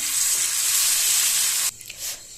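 Rock fish fry in hot oil with a dense, close sizzle that runs steadily, then cuts off sharply to a faint crackle near the end.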